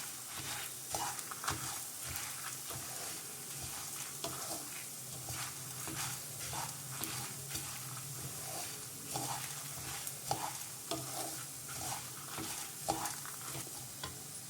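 Spices dry-roasting in a pan for sambar powder, stirred with a spatula, giving a soft, continuous crackle and rustle punctuated by frequent scraping strokes.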